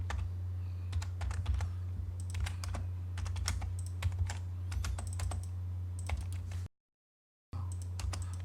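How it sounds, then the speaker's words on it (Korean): Rapid, close clicking of a computer keyboard as someone types an AutoCAD line command, a crisp run of irregular keystrokes over a steady low hum, with a brief gap of silence near the end. "L을 입력하고 엔터 클릭"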